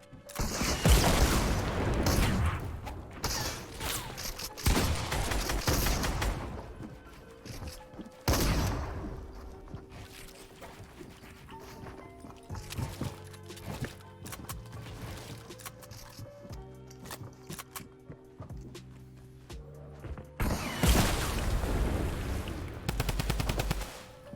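Fortnite drum gun firing in long rapid automatic bursts, loud and dense, with quieter stretches of in-game clatter and mechanical sounds between the volleys.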